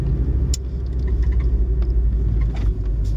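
A 1998 Volvo V70 engine pulls through a roundabout in third gear, a steady loud rumble from inside the car with a few faint clicks and knocks, and no talking.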